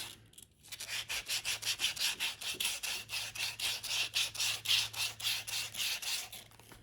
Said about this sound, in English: a little piece of sandpaper. I think this is 220 grit